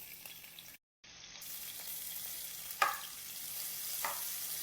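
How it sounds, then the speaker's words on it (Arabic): Onions sizzling in the same frying pan used for chicken, a steady low crackle with a couple of brief stirring clanks, heard close with no talking. "نفس المقلة راح نضيف البصل."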